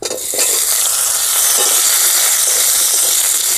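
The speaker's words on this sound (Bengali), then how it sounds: "পাঁচফোড়ন ভাজা হয়ে গেছে, এবার আলুগুলো দিয়ে দেবো।" Potatoes hit hot mustard oil in a wok over fried bay leaf and five-spice seeds, bursting into a loud, steady sizzle that holds unbroken after a brief first crackle.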